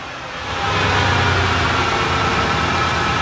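A car engine with a suspected clogged catalytic converter settles from a raised rev into a steady, loud, close idle, a continuous even hum and rumble with no talk over it.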